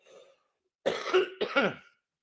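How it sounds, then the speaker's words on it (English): A faint breath, then two close, harsh coughs in quick succession, with silence before and after. "Hang on, I've got a cough again."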